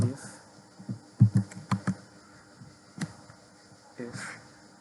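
Keys clatter on a computer keyboard while a formula is entered in Excel, a few quick clustered taps with scattered single presses, close and fairly quiet over a low room hum.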